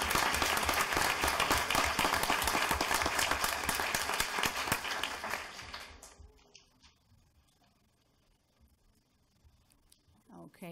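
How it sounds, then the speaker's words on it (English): Audience clapping at a school board of education meeting, dense sustained applause for about six seconds that quickly fades to near silence, with faint room sounds after. "If we could please give them each a round of applause."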